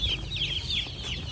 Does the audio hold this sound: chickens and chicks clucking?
yes